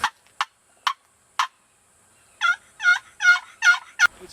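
A wild Osceola turkey gobbles loudly and close by in Florida: four sharp separate bursts, a brief pause, then a rapid rolling run of five gobbles in quick succession.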